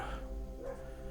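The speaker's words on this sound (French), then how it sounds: "Excusez-moi pour le chien qui aboie à côté." A dog barks close by outdoors, a short, fairly faint burst of one or two yaps over low background noise.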